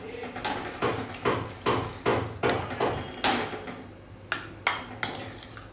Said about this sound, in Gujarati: હવે આની અંદર આપણે બાફેલા જે રીંગણા હતા એ ઉમેરી દેવાના છે. અને એને પ્રોપરલી મિક્સ કરી લઈશું.